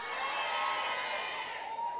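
An audience at a church retreat shouts "glory" together, a loud, sustained crowd roar with cheering voices close in a large hall.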